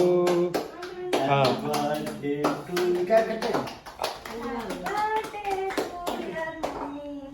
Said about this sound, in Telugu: చప్పట్లు కొట్టండి, పాట పెట్టండి